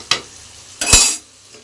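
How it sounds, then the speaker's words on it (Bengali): Bitter gourd fries in a pan with a couple of short stirring scrapes and a brief hissing sizzle, close and fairly loud, then quiet between them. "এদিকে দেখো উচ্ছে ভাজা শুরু করে দিয়েছি"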